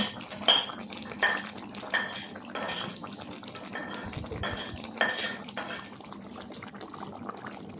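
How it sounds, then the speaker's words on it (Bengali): Chicken curry with onion and capsicum being stirred in a pan: a spoon scrapes and clinks against the metal in repeated strokes, with a soft wet stirring texture between them, close and moderately loud. "ওই তরকাটা এবার দিয়ে দিচ্ছি চিকেনের মধ্যে দিয়ে একটু মিক্সড করে নেব ভালো করে মিক্সড করে"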